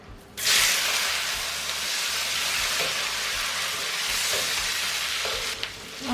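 Fatty pork belly drops into hot oil with white sugar for braised pork with potatoes, setting off a loud, steady sizzle and frying hiss that starts abruptly and then holds close and constant.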